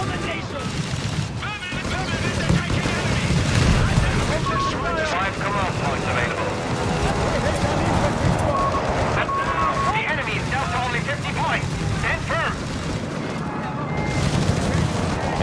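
Gunfire during a 4v4 battle in the game Company of Heroes 3: dense, continuous bursts of machine-gun and rifle fire with heavier booms, loud and layered, with voices shouting throughout.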